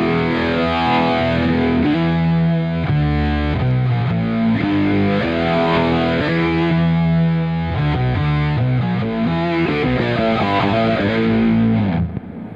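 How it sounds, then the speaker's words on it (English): A dual monophonic synthesizer, an S470, playing sustained distorted melodic lines through crossfading filters that sweep like a phaser or flanger, loud and continuous with shifting notes and no talk. "they have a filtering system that a filter that crossfades each other, so it makes it sound like a phaser or a flanger"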